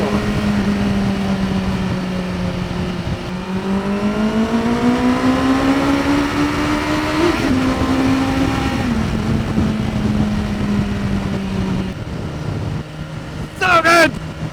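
A 2023 BMW S1000R motorcycle engine drones steadily while riding, rising and falling with the throttle as it pulls through gears over wind rush, with a brief sharp burst near the end.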